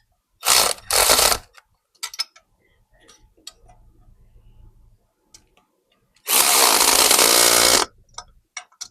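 A worn ratchet is worked during LS swap repairs on a 2003 Blazer, giving two short bursts of rapid clicking, a stretch of faint scattered ticks and low hum, then a longer sustained run of ratcheting near the end.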